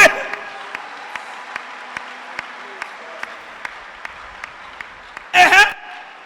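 A church congregation claps in praise during a service: evenly spaced claps ring out over a steady wash of room noise, ending in a short, louder burst of clapping.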